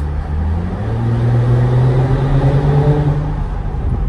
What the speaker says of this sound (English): I just wanted to accelerate a little bit so you could hear the sound of the engine